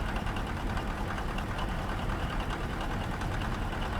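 A Volvo truck engine idles steadily in American Truck Simulator, a dense continuous rumble with a faint ticking, tappety texture and no talk.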